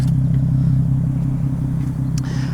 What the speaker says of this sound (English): IPL came with a different exhaust, which does sound awesome